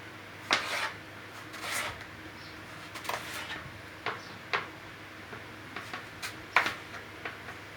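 Zucchini is cut on a board in a kitchen, heard as a series of sharp knife taps and chops at irregular intervals, fairly faint and close, with no talk.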